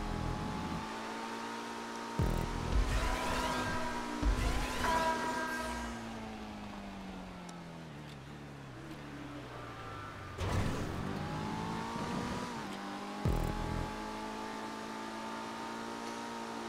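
A racing car in a Grand Theft Auto V stunt race, pushed to about 383 mph, gives a loud, sustained high-revving engine whine. Its pitch climbs and falls through several shifts and bursts, with no talking.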